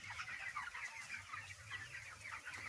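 Chickens on a farm cluck and chatter in a busy flock, with overlapping short calls throughout, soft and fairly distant.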